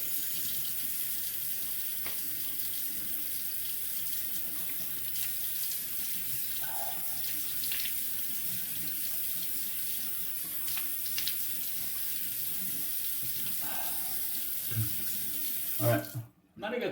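A tap runs steadily into a sink as the face is rinsed after a straight razor shave, a continuous close hiss of water with a few faint splashes and clatters toward the end.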